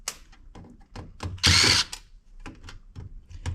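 A power drill unscrewing parts from a security DVR, heard in repeated short whirring bursts up close, with one longer loud burst and small clicks between them.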